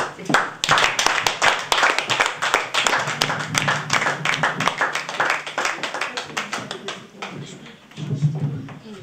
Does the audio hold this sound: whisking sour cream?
no